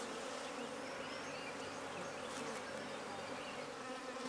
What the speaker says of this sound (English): These are native bees recruited from the wild.